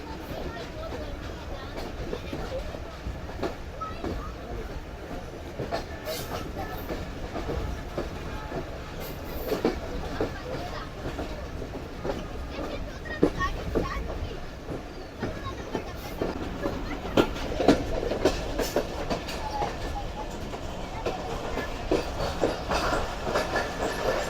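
Jaffer Express train hauled by a Chinese locomotive rolls steadily along the rails near a junction yard, with a continuous rumble and clickety-clack of wheels and occasional squeals, with faint talk mixed in.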